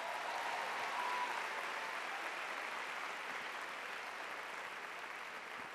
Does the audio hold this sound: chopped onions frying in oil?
no